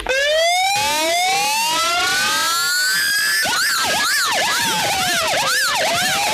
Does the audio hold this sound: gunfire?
no